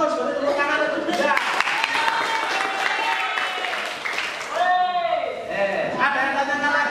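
Applause from a classroom of students, a dense burst of clapping lasting several seconds with a brief dip midway, mixed with voices and cheering over it.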